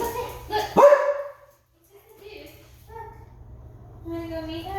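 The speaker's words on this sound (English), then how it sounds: "He always barks at that figurine out there." A dog barks at a figurine outdoors, a couple of loud close barks near the start followed by quieter yips and whines, while a person speaks softly in between.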